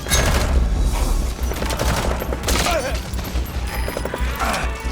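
Gunfire in Metal Gear Solid 5 erupts as a sustained fusillade of loud shots and booms over a rumbling low end, with bursts of automatic fire and a voice heard briefly amid the clamor.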